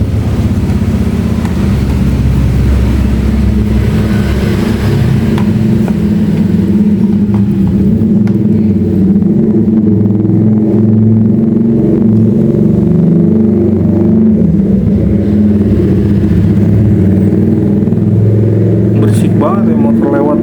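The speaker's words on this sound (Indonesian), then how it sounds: "motor lewat mulu nih tuh" Motorcycles passing on a roadside street in front of a house, a steady rumbling engine drone with passing swells, while a person talks over it nearly throughout.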